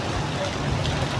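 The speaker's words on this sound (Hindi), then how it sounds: "बारिश देख कितनी हो रही।" Steady monsoon rain pours down in a continuous broadband hiss on surfaces outdoors at a busy shop street, filling the whole short moment evenly and loudly.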